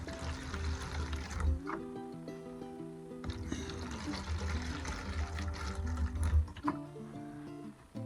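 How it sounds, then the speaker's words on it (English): Water is poured into a container while dropping seeds, a gurgling, splashing stream that runs in several bursts with brief pauses between them, fairly quiet and close, with no talking. "I'm going to pour some water in here."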